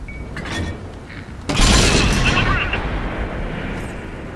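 A tank cannon in World of Tanks fires one heavy, close boom that rolls into a long decaying rumble, with a voice faintly under the game sounds before the shot.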